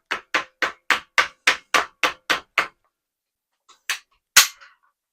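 Sharp hammer blows strike the steel hoops of a Japanese chisel set with a hoop setting tool, ten evenly spaced loud taps in a quick run, then a pause and three more scattered hits.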